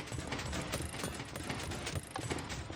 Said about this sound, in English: You can hear that trident getting pushed around in there.